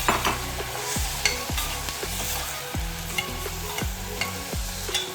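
Thawed frozen corn goes into a pan of frying mushrooms and is stirred, bringing a steady close sizzle broken by repeated sharp scrapes and knocks of the spoon against the pan.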